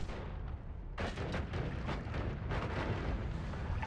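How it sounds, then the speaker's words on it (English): Explosions in the pixel-physics game Noita, a rapid series of crackling bursts and booms layered over a crackling roar, fairly quiet and without talking. "So the explosions don't do any harm to us, but the fire that they create absolutely does."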